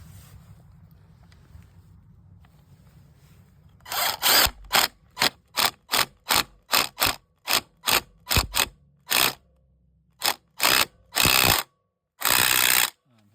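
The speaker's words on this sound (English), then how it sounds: "you can probably hit it with the impact wrench now." An impact wrench works a KLX 140 dirt bike clutch, firing a series of loud, evenly spaced short rattling bursts, then a few longer blasts after a gap, close up against a quiet background.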